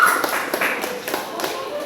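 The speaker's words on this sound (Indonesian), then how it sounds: "Tepuk tangan untuk Queen" A classroom of students claps together for a classmate, a short burst of loud, fairly rhythmic hand claps close by.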